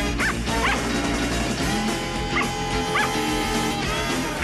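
A dog in the film Ace Ventura: Pet Detective gives several sharp yipping barks and whimpers, close and loud over a busy background of film music and ambience.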